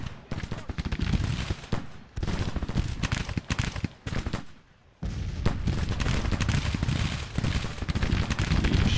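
Continuous, dense musket and artillery gunfire rolls through a Civil War battle in the strategy game Grand Tactician, loud and near with overlapping cracks and booms, briefly easing before surging again.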